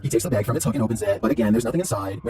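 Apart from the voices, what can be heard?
No everyday noises stand out.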